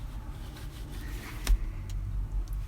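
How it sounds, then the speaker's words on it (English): Road traffic coming in through open car windows: a low steady rumble of passing vehicles with one brief sharp clack midway, moderately loud and without speech. "now all I hear is traffic"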